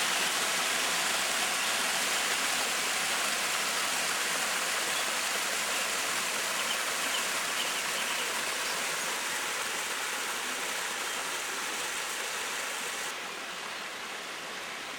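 Steady rushing of garden waterfall cascades, a continuous broad roar with no voices, holding evenly throughout.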